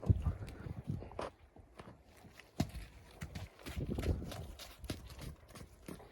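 Hooves of Novooleksandrivka draft horses thud and clop at an uneven walking pace on soft ground, close by, with occasional rustling and shuffling between steps.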